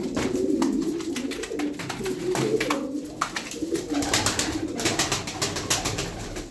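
Pigeons in a Turkish loft coo steadily and close, soft rolling calls repeating throughout, with scattered wing flutters and shuffling but no talk.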